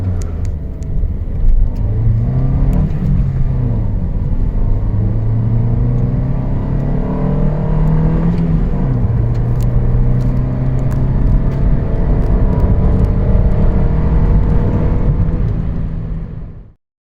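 A manual Toyota Yaris ATIVX accelerating hard from 0 to 100 km/h on the road: the engine note climbs loudly, drops at each gear change, then climbs again in a steady, close, continuous rising pattern.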